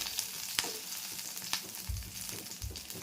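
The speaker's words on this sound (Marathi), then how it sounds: "तेलात जरा गरम करून फ्राय केलं ना, पटपट सोडतात मिरची" Green chilies fry in a little hot oil, sharp crackles and pops over a soft sizzling hiss, close and moderately quiet with a few dull low thumps, no voices.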